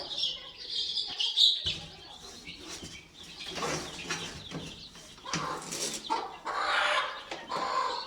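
Kadaknath hens cluck and chicks peep close by, with bursts of wing flapping and scuffling, irregular and lively throughout.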